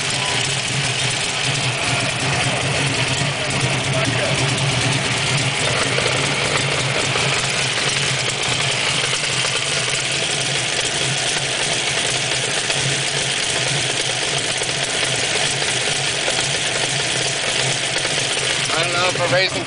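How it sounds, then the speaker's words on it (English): A car engine idling with a racing clutch, a steady, loud, rough mechanical drone with rattling that runs throughout, while people talk over it. "I don't know if a racing clutch is supposed to sound like that or not, but that don't sound too great to me"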